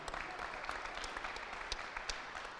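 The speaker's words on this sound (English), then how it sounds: "It's important that we also give them a very good round of applause" Faint, brief applause at a school sports awards ceremony, a thin patter of scattered claps with a few sharper individual hits.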